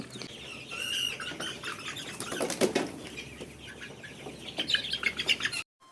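Loud, rapid wing flapping from ten Sonali chickens lifted together for weighing, with squawks and clucks mixed in, continuing throughout before cutting off abruptly.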